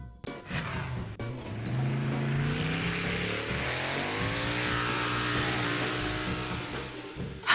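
A car accelerates away, its engine note rising steadily and then holding a loud, continuous drone with broadband road noise, with no voices heard.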